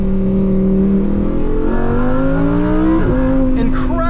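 A Lamborghini V10 sports car with a totally stock exhaust revs loudly and close by, its steady engine drone climbing in pitch before a sharp throttle blip near the end.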